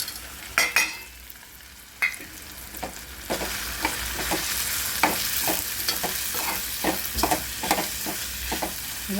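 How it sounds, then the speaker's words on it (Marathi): Red chilli masala and garam masala roasting in hot oil in a pan while being stirred. A steady sizzle runs under a regular series of sharp spoon clicks and scrapes, close up, with no voices. "भाजू द्या हे गरम झालं की आपोआप ह्याला तेल सुटलं जातं"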